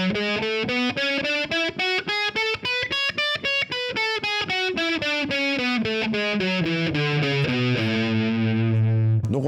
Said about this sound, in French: Donc là d'abord je vais monter La ionien.